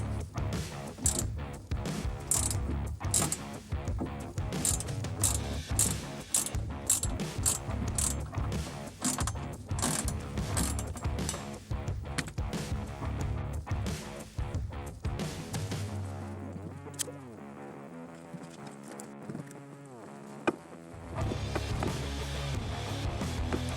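A ratchet loosens a bolt on a Rhino Rack Backbone roof rack fitted to a JL Jeep Wrangler, with quick, close, rhythmic clicking strokes repeated over and over with brief pauses.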